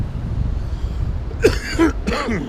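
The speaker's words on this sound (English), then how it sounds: "When I smoke, I cough a bit." After a quiet stretch, a person coughs a few times in short, close bursts just after smoking.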